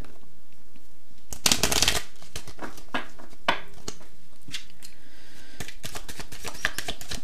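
Tarot cards are shuffled in a crisp, loud riffle, followed by softer intermittent slaps and flicks as the cards are handled and laid out, with no talking.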